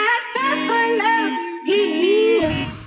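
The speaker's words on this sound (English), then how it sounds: "And I found this really, really amazing sample off Splice." A melodic music sample pulled from Splice for building a beat, with a smooth vocal-like tone gliding between pitches in two phrases and a brief noisy burst at the end, clean and upfront with no talking.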